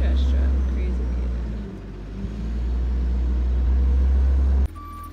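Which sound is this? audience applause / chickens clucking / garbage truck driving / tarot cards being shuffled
garbage truck driving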